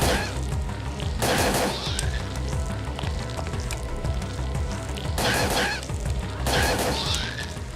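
Gunfire in the PS1 game Parasite Eve 2 comes as repeated loud bursts of shots spread over a busy background of game sound effects.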